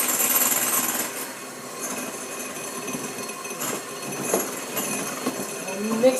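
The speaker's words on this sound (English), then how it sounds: "I've been beating them with this hand mixer until they're thick" A hand mixer whirs steadily as it beats eggs with sugar in a bowl for a cake batter, a close, continuous buzzing with a few uneven bumps.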